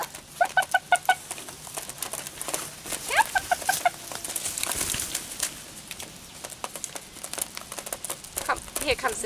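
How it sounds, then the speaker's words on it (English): Rooster and hens clucking near a backyard coop at feeding time, with repeated short clucks and calls in bursts over the first seconds and again midway, amid rustling, and a person talking intermittently. "Come, here comes the rooster."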